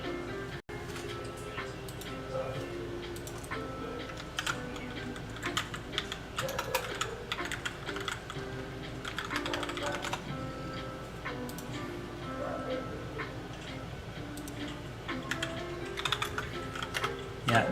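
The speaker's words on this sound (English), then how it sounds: "this keyboard is kind of loud because it's a mechanical keyboard" Rapid, steady clicking of a loud mechanical keyboard being typed on during a PC build setup, close and continuous for the whole stretch, with no talking over it.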